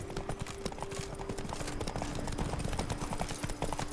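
Horse hooves clip-clop steadily and close in The Witcher 3, a brisk, continuous trotting rhythm with faint background ambience and no talk.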